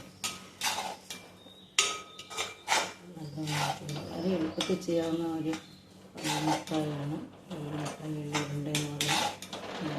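A spoon scraping and clinking in a pan as jaggery syrup, ghee and oil are mixed with sesame seeds, with repeated metallic scrapes and knocks under a woman's speech.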